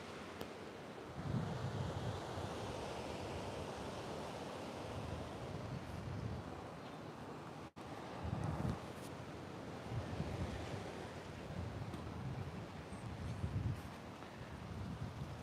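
Ocean waves rolling in at an oceanfront with a breeze, a continuous wash of surf and wind noise at moderate distance, with swells of louder breaking water recurring every couple of seconds and no talking.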